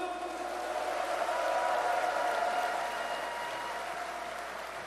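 Sustained applause from party members at a Democratic Party leadership candidates' joint rally in Jeonbuk, Korea, a steady dense wash of clapping at moderate volume with no speech over it.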